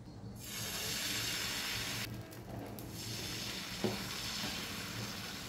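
Masoor dal dosa batter hits an oiled hot tawa with a steady, close sizzle that holds for several seconds, broken by a short scraping burst partway through.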